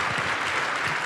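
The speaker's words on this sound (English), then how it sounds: "one last round of applause for our new best friend" A studio audience at a live summer show applauds in a brief, even burst of dense clapping, loud and continuous throughout.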